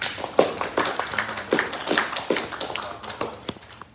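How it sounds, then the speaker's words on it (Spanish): Audience at an academic presentation gives a light round of applause, a small group of hands clapping in uneven bursts that thin out toward the end, fairly close and moderately quiet. "Un aplauso,"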